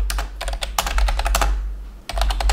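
Fast typing on a computer keyboard, close and clear, with bursts of quick key clicks broken by a short pause and no talking.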